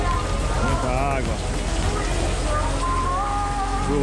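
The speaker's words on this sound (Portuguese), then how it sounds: "Muita chuva no porto de Manaus, aqui, na saída do barco." Heavy rain with some wind pours steadily at the port of Manaus by a boat's departure point, a dense continuous hiss under a voice talking.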